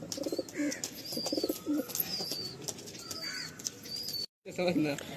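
Malbai pigeons coo in low, repeated calls from a loft, mixed with brief chirps and the faint murmur of voices, with a short silent gap near the end.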